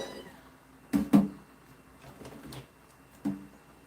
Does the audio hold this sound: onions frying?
no